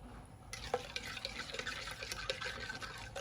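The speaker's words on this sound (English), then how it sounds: "you slowly add the white wine" White wine is poured slowly into a carbonara sauce, a soft continuous trickle and splash with small drips, heard up close.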